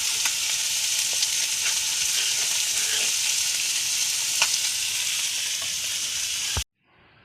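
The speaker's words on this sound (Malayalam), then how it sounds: "കറിയൊക്കെ തിളച്ച് പാകായി" Egg curry soured with bilimbi and enriched with coconut milk boils in a pot, a steady close bubbling sizzle that holds evenly for several seconds and then cuts off abruptly, no talking.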